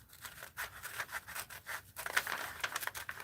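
Scissors cut roughly through a paper bag with quiet, close rasping snips and rubbing strokes in an uneven rhythm, soft and without talk.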